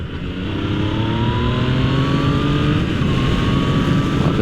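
A Yamaha FZ-09 three-cylinder motorcycle accelerates hard, its engine note climbing steadily through the revs in a loud, close, continuous pull without a gear break, over wind roar.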